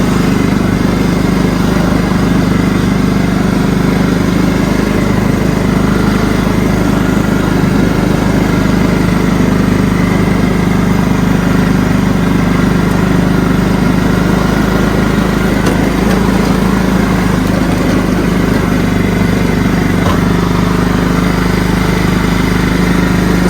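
A John Deere STX 38 lawn tractor engine runs steadily close by, a constant loud droning hum with no break, shifted into gear without any talking heard.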